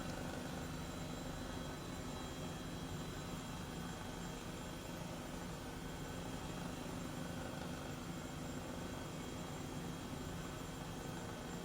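Airbus H135 helicopter flying in Microsoft Flight Simulator, a steady, dense rotor and turbine drone that holds constant and loud throughout with no voices.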